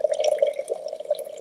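Liquid is poured steadily at close range. The stream gives a continuous trickling, gurgling sound with small splashes.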